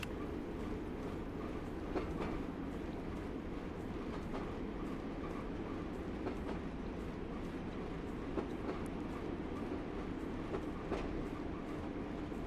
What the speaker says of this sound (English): It's not the biggest freight train in the world.